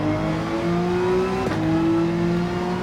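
A tuned-down Porsche 911 race car in a GT3 racing video game drones loudly and steadily, its pitch climbing slightly with a brief dip midway, like a gear change.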